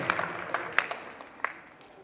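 Faint, scattered applause from a crowd at a temple auction of cradle items, a few sparse claps standing out over a soft, steady patter that fades away.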